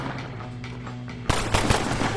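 Gunfire in the video game Red Dead, with a steady hum for the first second before a run of loud, close shots cracks out in quick succession.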